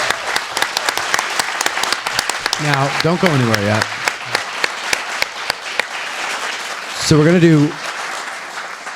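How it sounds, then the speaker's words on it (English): An audience at a live Gettysburg history event applauds in sustained, rhythmic clapping that runs the whole time, while someone talks over it in places. "Let's give a round of applause to Tim and Sue,"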